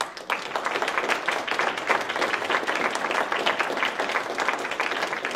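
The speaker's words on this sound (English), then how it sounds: "I think they do deserve a round of applause." Steady, dense applause from an audience at a city council at-large candidate forum, many hands clapping continuously and evenly throughout, moderately loud and close.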